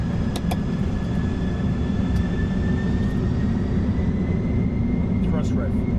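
In the cockpit of a Corsair Boeing 747-400, the jet engines roar steadily through the takeoff roll, with high turbine whines rising over the broadband rumble and faint crew voices.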